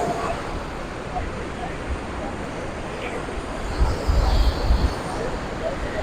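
Large ocean waves roll onto the beach at Puri at night, a broad, continuous roar that swells louder near the end, with wind and faint, indistinct voices mixed in.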